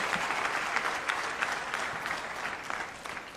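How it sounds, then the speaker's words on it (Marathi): A Marathi political audience claps steadily at a speech event honouring Nitin Gadkari, dense overlapping applause sustained throughout at moderate level with no break. "मग टाळ्या किती व्हायला पाहिजे?"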